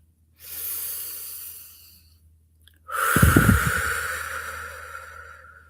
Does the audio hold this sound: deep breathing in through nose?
yes